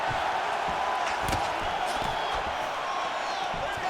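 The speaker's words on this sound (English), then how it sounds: "you hear the crowd react every time they come together" A video game crowd in a UFC 5 fight simulation murmurs and roars continuously at a distance, with a few dull thumps and brief swells of excitement as the fighters trade blows.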